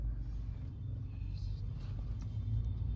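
Vehicles roll past a park, a steady low road rumble of car engines and tyres, fairly close and continuous with a slight swell near the end, with no voices over it.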